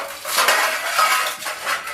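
Dishes, pots and pans being scrubbed in a home kitchen: a steady, close, bright clatter and scraping of metal utensils and cookware that rises and falls for two seconds, with no voices.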